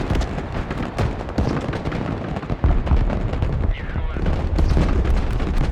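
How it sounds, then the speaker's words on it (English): Artillery fire striking two units in headquarters towers in the Broken Arrow war game, a dense, continuous rumble of booms and blasts at steady loudness. "Effective hits from our artillery, taking out those 2 units in the headquarter towers."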